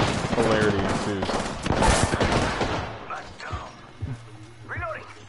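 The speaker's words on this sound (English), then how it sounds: "Getting shot." Gunfire in Apex Legends crackles in dense bursts early on, then thins to scattered impacts while players talk over the action.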